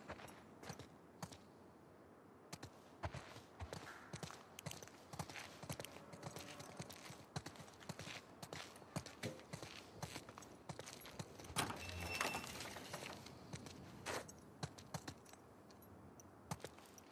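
Horse hooves clip-clop in a steady walking rhythm in The Last of Us 2, with crisp close hoof strikes and a brief swell of rustling noise partway through.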